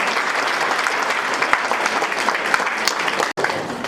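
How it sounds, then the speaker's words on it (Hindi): At a mothers' gathering at a school, the audience applauds as a garland is placed, producing dense, loud, sustained clapping with a brief cut near the end. "आप माला पहना करके तालियों से माला का स्वागत करें"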